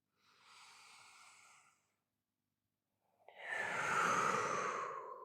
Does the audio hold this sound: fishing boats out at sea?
no